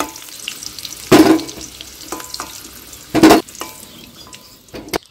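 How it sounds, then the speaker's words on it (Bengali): Potatoes fry in oil in a pan with a soft, steady sizzle, broken twice by loud bursts of stirring with a metal utensil and a few lighter clinks against the pan. "বন্ধুরা আমাদের এখানে আলু ভাজা চলছে"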